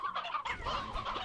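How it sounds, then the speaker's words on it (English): Chickens and roosters in the Slime Rancher video game cluck and squawk in a busy, overlapping run of short fowl calls, steady and fairly close with no talking. "These are some chickens and roosters."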